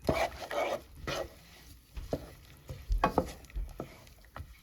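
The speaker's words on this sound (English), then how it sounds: "So we just stir this in." Stirring jerk shrimp pasta sauce with coconut milk in a pan, with soft scraping and sizzling strokes repeated unevenly, fairly close and moderately quiet.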